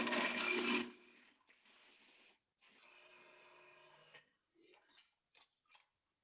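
A blender purees minestrone soup ingredients with a loud, dense whir for about a second, then pulses in shorter, fainter bursts.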